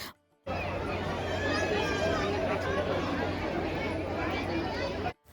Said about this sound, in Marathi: बघा ही गर्दी अगदी दुनियाभराची सगळी लोक आज इकडे चालेत दर्शनासाठी